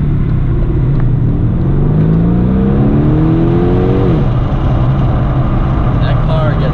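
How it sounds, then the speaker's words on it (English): A 2020 Aston Martin DB11 Volante convertible accelerates hard, its exhaust rising in a loud, climbing rev that peaks and then drops into a steady roar, heard from inside the car. "The exhaust on this thing is nuts."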